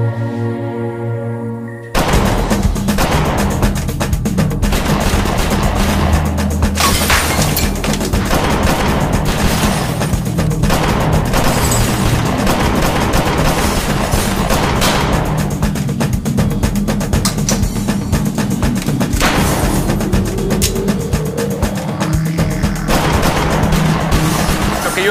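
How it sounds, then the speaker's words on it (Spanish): Shootout between rival armed groups in a TV drama: a sustained barrage of loud, rapid gunfire with overlapping bursts and cracks, starting abruptly after a short, quieter tonal opening and continuing almost without pause. "Yo estoy escuchando, ¿son disparos?"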